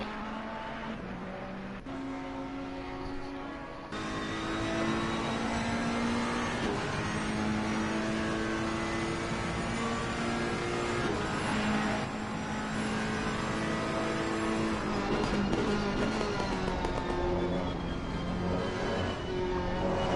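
Racing cars accelerate at Monza near the Curve di Lesmo, a McLaren among them, their engines climbing through gears in rising, revving whines that overlap and sustain loudly throughout.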